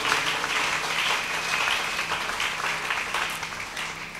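A church congregation applauding in praise of the Lord, a dense, steady burst of many hands clapping together, fairly close and sustained, with no voices over it.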